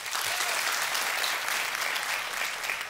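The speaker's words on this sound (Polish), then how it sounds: "zacznijcie bić brawo" An audience at a Polish cabaret performance claps steadily, a dense even wash of applause that holds at the same level for a few seconds with no voices standing out.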